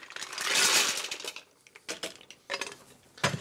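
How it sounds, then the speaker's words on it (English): Mussels tumble into a pot of boiling water, giving a loud clattering rush of shells followed by a few sharper clinks and knocks, with no talk. "So in go the mussels."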